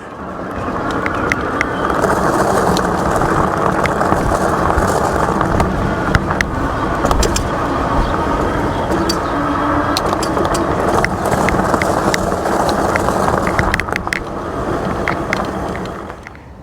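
An ASAP Pioneer electric bike riding over gravel, a continuous crunching, rattling tire noise with scattered clicks and wind buffeting, close and steady for the whole stretch.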